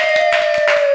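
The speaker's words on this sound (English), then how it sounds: "crowd goes wild" An audience at a comedy-style talk show claps to welcome a guest, a mental health counselor; a loose patter of hand claps rises and falls for about a second under a steady high ringing tone.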